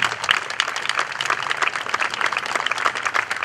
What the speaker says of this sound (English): How about another round of applause for our singer, Victoria Citarello, and our beautiful Erica Daughtery